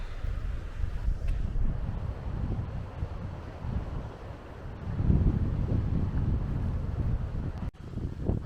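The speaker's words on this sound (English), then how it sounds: "Hopefully you can hear me above the wind." Strong gusty wind buffeting the microphone on the coast at Cala d'Or, Majorca, roaring in surges and swelling loudest in the second half, with no voices.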